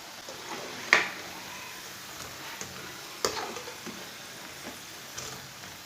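Pakoras frying in hot oil, a soft steady sizzle with a few sharper crackles and pops scattered through, close and fairly quiet, with no voices.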